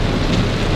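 Heavy rain pours down in a street during a cyclone-driven storm in Gricignano, a dense, loud, continuous roar of water with no break and no voices.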